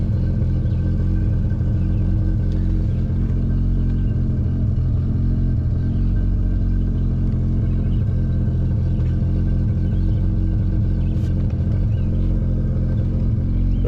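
A 1995.5 Audi S6 Avant engine idling just under 1,100 RPM, a steady low rumble with even, constant throb throughout, close and loud with no revving and no talking.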